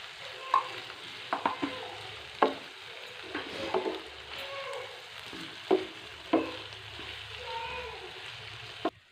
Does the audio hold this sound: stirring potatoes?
yes